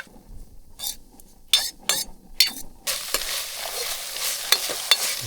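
Masala Maggi noodles with peas and garam masala are stirred in a pan outdoors, a spoon scraping and clinking against the metal over a steady sizzle, close and continuous with no talking.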